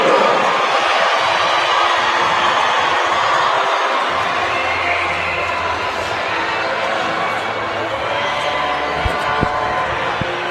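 A Southside home crowd cheers as the Lady Hawks girls' basketball team collects the gold ball for a championship, a steady loud roar of cheering and noise that holds throughout, with announcer talk over it.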